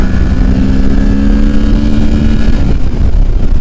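A 2023 Kawasaki Ninja 650 motorcycle screams at high revs, its loud, steady engine drone held close and unbroken with rising tone.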